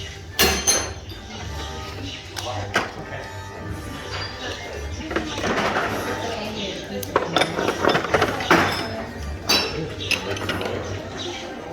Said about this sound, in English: You're going to want to flip up your activation switch, and it should make a noise.